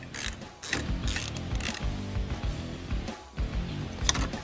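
Ratchet wrench backing T40 Torx bolts out of the turn signal mounts on a Harley Street Glide motorcycle, a busy run of rapid clicking and metallic mechanical rattle, close and fairly steady with brief pauses between strokes.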